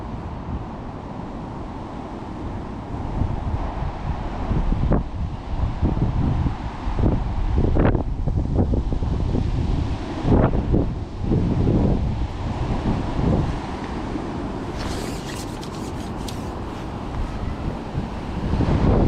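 Wind gusts across the microphone outdoors at a fishing lake, a heavy low rumble and buffeting that swells and eases throughout, with a few sharp knocks and brief hissy bursts.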